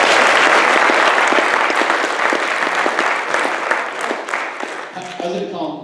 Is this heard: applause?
yes